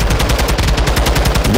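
Sustained automatic gunfire in Call of Duty: Modern Warfare II, loud and close, with evenly spaced rapid shots hammering without pause.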